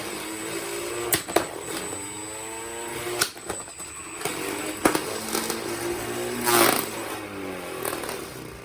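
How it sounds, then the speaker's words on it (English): A combat robot's spinning blade scraping the arena floor, a loud whirring, grinding motor drone with rising and falling pitch and several sharp metallic impacts and scrapes. "I think his blade is scraping the floor again."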